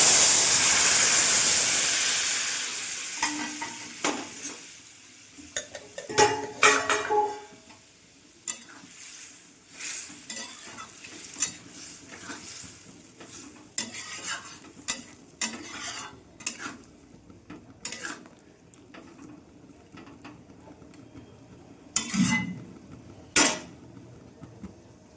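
Ridge gourd and small shrimp curry stirred and fried in a pan over five-spice seeds: an opening hiss of sizzle gives way to scraping spatula strokes and clinks against the pan, with soft frying underneath and no talking.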